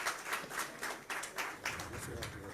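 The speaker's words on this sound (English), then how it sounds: "Give him a round of applause." Audience applause with scattered claps at a climate finance lunch session, greeting the representative of the Enugu State Governor; moderate, fairly distant clapping that swells and dips in bursts across the room.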